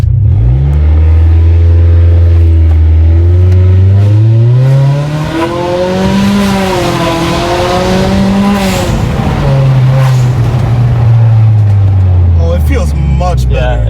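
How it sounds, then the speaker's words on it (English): A Honda Accord 1.5T with a new upper torque motor mount launches from a standstill, its engine revving up through several rising gear pulls with drops at each shift, loud and close inside the cabin, with a voice speaking briefly. "to test it out, I'm just gonna launch it from the start and then I'll see how it is from like shifting down,"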